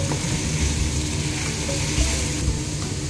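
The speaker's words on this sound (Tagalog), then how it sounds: "So, haluin lang po natin. Lutuin lang din po natin yung carrots ng konti." Grated carrots for bukari stirred and cooked in a pan, giving a continuous loud close sizzle and soft stirring rustle throughout, without speech.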